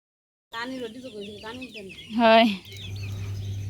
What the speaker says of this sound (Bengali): আমার আম্মা অনেকগুলো মুরগি পালে হাঁস পালে